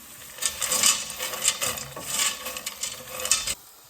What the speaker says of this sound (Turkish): Kavurduğum mantarların üstüne makarnamı ekliyorum. Makarnalarımı da biraz kavuracağım.